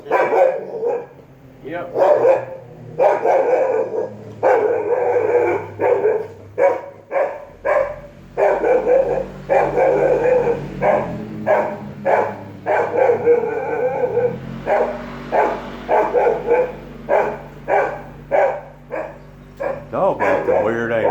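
A dog barks repeatedly at rattling old trucks passing by, loud rapid bursts with short pauses running throughout, mixed with yips and howl-like cries, while someone briefly speaks.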